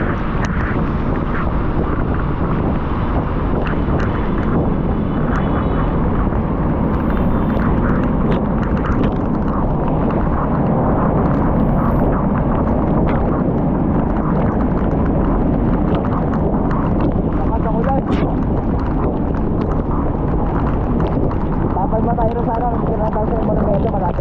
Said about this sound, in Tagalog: Umuulan, lakas ng ulan.